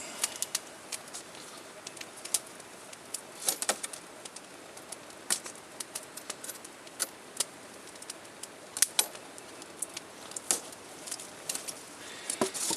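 A saw blade picks and scrapes at a cord outdoors to cut it, giving faint, irregular ticks and scratchy clicks in bursts, with quiet birdsong in the background and no talking.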